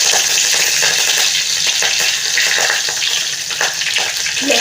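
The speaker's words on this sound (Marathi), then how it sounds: "तेलामध्ये मोहरी एक चमचा मोहरी एक चमचा जिरं" Mustard seeds and cumin sizzle and crackle in hot oil as a tempering for moong dal, a steady, close frying hiss throughout with no one talking.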